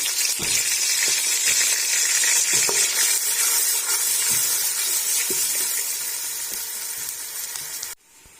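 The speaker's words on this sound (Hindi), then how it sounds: "अभी इसके अंदर हम डाल देंगे अदरक, लहसुन, प्याज का पेस्ट।" Ginger, garlic and onion paste sizzles and fries in hot cooking oil for Punjabi kadhi, a loud steady hiss with faint stirring scrapes that fades slightly before cutting off abruptly near the end.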